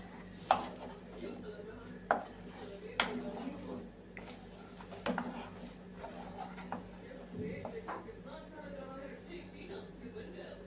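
A metal spatula stirs mawa into milk in a pan, making repeated sharp knocks and soft scraping at an irregular rhythm, with a voice heard in the background.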